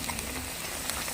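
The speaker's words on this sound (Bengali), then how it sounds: "পকোড়া অল্প আঁচে ভেজে নিতে হবে।" Cauliflower pakoras fry in oil over low heat, giving a soft, continuous sizzling hiss that stays quiet and even throughout.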